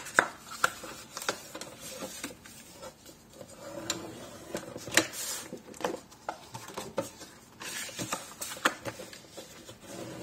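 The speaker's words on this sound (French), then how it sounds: "Donc je marque les plis" Paper being scored along fold lines for a Christmas scrapbook mini album, a series of light, irregular scraping taps and brisk strokes close by, fairly quiet with pauses between bursts.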